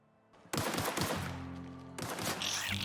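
A sudden loud burst of rapid automatic gunfire erupts in The Outer Worlds after a quiet start, rattling close, then easing before a second burst, with no talk over it.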